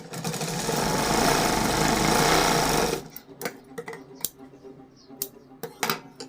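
Sewing machine stitching a princess-cut blouse: a loud, fast, continuous mechanical whirr for about three seconds, then stops, leaving scattered clicks and handling knocks of fabric and tools.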